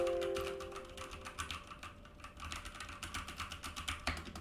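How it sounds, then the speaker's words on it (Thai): Quiet, close typing on a computer keyboard, recorded through a COMICA STA-U1 microphone: a rapid run of soft key clicks in an uneven rhythm over faint background hum. "กดคีย์บอร์ดนะครับ"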